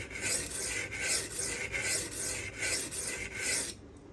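A Damasteel blade on a Custom Knife Factory Rotten Design Evo 4.0 is sharpened to an 18-degree bevel, with about eight close, even rasping strokes in steady rhythm before stopping.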